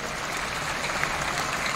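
Crowd applause at a large PSI party and Jokowi volunteer consolidation rally, a steady dense clatter of many hands clapping, moderately loud, with no talk over it.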